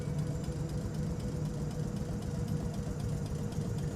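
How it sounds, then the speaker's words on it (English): A Class 455 electric train's air compressor runs steadily in Train Simulator 2021, a continuous low, even drone with a mild pulsing knock, close and constant throughout. "as the compressor is spot on"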